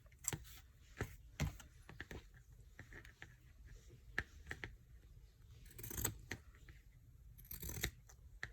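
Scissors snip through paper while a no-sew notebook cover is trimmed, giving quiet, irregular close cuts and crinkles with a few sharper snips scattered across the stretch.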